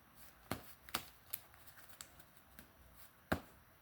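Trading cards being shuffled by hand during a card game, a few sharp riffling snaps standing out against a quiet background with no talking.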